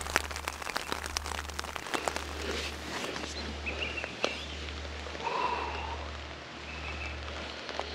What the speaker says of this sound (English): Sit and think and enjoy the sound of the rain